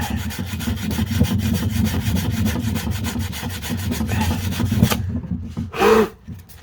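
Soft sanding block rubbing back and forth over a damaged, dented wheel during restoration, a steady close scraping stroke for about five seconds, then a brief pause and one last louder swipe.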